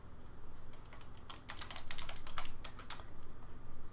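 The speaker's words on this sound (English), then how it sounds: "helps if I type on the right keyboard." Rapid typing on a computer keyboard, a steady run of close, crisp key clicks with one sharper clack near the end, heard alone over a faint background hum.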